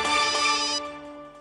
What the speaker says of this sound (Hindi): लो, फिर से आ गया तुम्हारी दादी अम्मा का फोन।